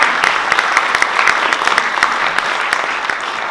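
A school theater audience applauds loudly and steadily, dense close clapping sustained throughout with no talk.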